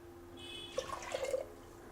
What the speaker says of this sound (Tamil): அரிசி களைஞ்ச தண்ணி இதில் தான் நான் இப்போ 3 டம்ளர் ஊற்றுறேன்.